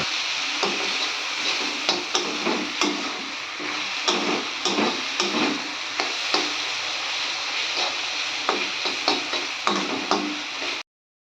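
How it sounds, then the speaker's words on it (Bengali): Jute leaves frying in a pan with red chili powder, a continuous soft sizzle broken by regular scraping stirs, roughly one every half second, close and moderately quiet with no talking. "আর দেখতে পাচ্ছেন একদম ভালো করে ভেজে নিচ্ছি পাট শাকটা।"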